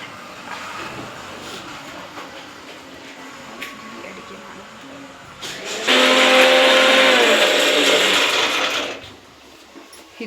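A mixer grinder whirs loudly for about three seconds with a steady motor whine, starting abruptly and cutting off, over faint background room noise.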